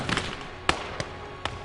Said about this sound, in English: there comes the mortar again